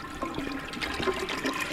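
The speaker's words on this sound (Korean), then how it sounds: "변기? 이야 오래돼도 작동은 하는구나" An old toilet flushes in a horror video game, a fairly quiet rush and gurgle of water running through the bowl with scattered splashy bursts.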